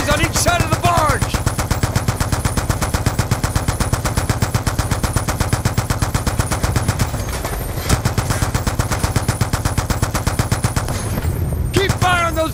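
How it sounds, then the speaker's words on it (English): Mounted machine guns on enemy gunboats in Call of Duty: Black Ops fire in a steady, loud, unbroken rapid rattle throughout, with a brief louder crack near the end. "They're mounted MGs on each side of the barge!"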